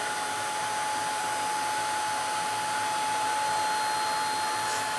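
A handheld heat tool blows hot air over a painted paper tag in a mixed-media craft session, a constant, steady whirring hiss with a thin whine running unchanged throughout, close and alone.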